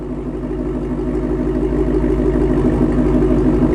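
A 2017 Ford Mustang Shelby GT350R idles in loud exhaust mode, a steady, deep, rumbling drone that stays close and constant throughout, with no talk over it.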